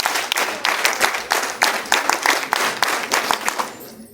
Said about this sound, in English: NCC clap शुरू कर.